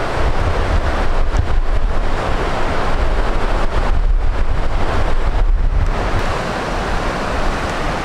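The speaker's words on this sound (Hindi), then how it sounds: "उस सबसे पीछे आप पानी का फ्लो देखें इधर" A glacier-fed mountain stream rushes steadily in a broad, continuous roar, loud and close, with gusting wind buffeting the microphone and no talk.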